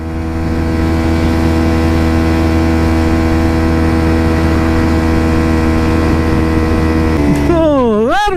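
A motorcycle engine runs hard while rolling downhill at about 50 km/h, producing a loud, steady droning hum with strong tonal harmonics. Near the end the pitch wavers up and down as a voice speaks over it.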